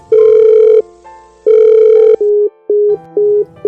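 Loud electronic phone ringback tone: two long beeps followed by a series of shorter pulsed beeps, clear and close with no talking.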